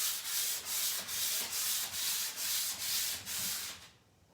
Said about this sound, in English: Always sand with the grain.